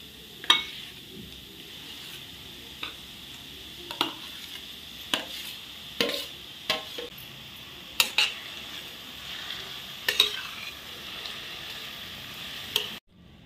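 A spoon scrapes and knocks in a pan as roasted white eggplant bharit is stirred, giving about a dozen sharp metallic clacks at irregular intervals over a soft sizzle, close and clear, with no voices.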